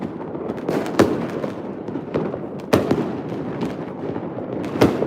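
New Year's Eve fireworks set off from the street below a balcony, with loud booming bursts at about 1, 2.7 and 4.8 seconds over a continuous crackling, popping wash of smaller explosions.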